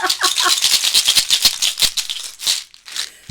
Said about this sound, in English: now our noise maker is ready to make some noise